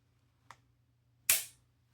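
Dry-fire trigger pull on an HK VP9A1 9mm pistol: a faint small tick, then a sharp, louder metallic snap as the striker releases, close up against a low background hum.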